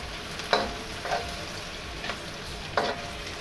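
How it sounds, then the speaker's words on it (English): Shrimp sizzles steadily in a hot pan for restaurant-style pad thai, with four short bursts of louder frying as the pieces are turned or moved, heard up close with no talking. "we're just gonna cook and make sure the shrimp is cooked on both sides"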